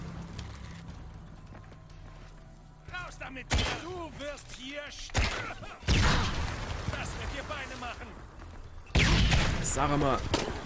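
Several loud bursts of gunfire crack out in quick clusters in the video game Shadow of the Tomb Raider, separated by quieter stretches where voices talk in German.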